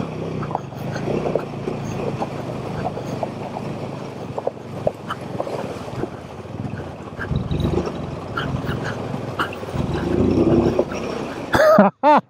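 A Royal Enfield Himalayan 450 motorcycle rides through water, its engine droning under rushing, splashing water for several seconds, with a few sharp bursts at the end.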